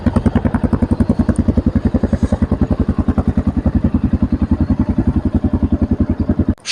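Shineray CXR 250 4V motorcycle engine running cold at idle, a steady loud rhythmic thumping putter close by, continuous and alone for several seconds.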